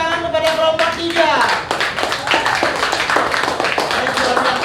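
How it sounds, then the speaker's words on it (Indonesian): Fifth-grade schoolchildren in an elementary classroom clap for a group that presented, a loud burst of quick irregular hand claps over a teacher's voice speaking at the start. "Sekali lagi beri tepuk tangan kepada kelompok 3."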